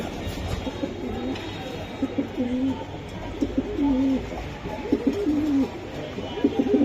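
Racing pigeons coo in repeated low, throaty phrases, close and steady throughout, with a faint mechanical rumble underneath.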